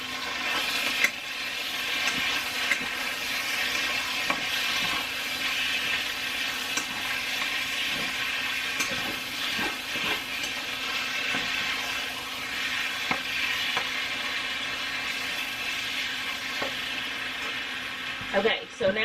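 Beef and broccoli sizzling steadily in a hot pan while being stirred, continuous loud frying hiss with occasional scraping clinks, no talk.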